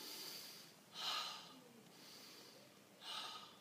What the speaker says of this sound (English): So when you breathe in